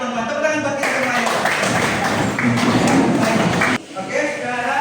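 A class of students claps together in a classroom, giving a loud, dense burst of applause that lasts about three seconds and stops sharply, with some voices audible before and after.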